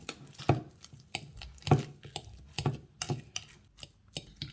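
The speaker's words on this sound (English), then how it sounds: "This is my overripe banana. Okay, I don't want to throw anything away. I'm going to press it to make it very soft." An overripe banana being pressed and mashed, heard as soft irregular thuds and taps against a bowl, close and fairly quiet, several spaced presses over a few seconds.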